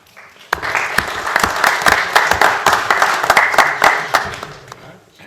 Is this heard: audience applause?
yes